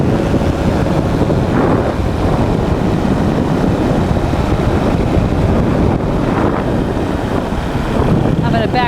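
Powered hang glider engine droning in flight over Oahu's North Shore, a loud continuous roar heavily mixed with wind buffeting the microphone, steady throughout.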